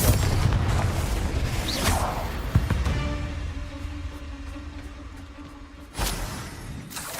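A Confringo blasting spell goes off in Hogwarts Legacy, a heavy booming explosion with crackling debris that fades into a low tail, then another sharp blast near the end.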